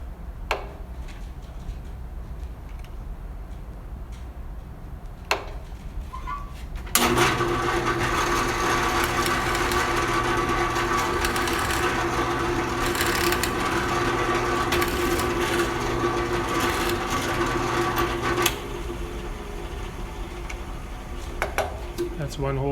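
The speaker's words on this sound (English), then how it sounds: "Alright, I'm going to drill this hole." Drill press boring a hole in wood for a pencil holder: a quiet stretch with a few ticks, then the motor spins up near the seven-second mark into a steady whine with tonal bands, runs at roughly even loudness, and drops back near the eighteen-second mark.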